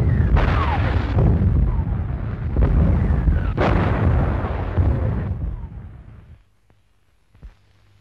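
Distant artillery guns from a 1946 war film rumble in a continuous heavy barrage of repeated low booms for about six seconds, then fade to near silence with one faint final thud.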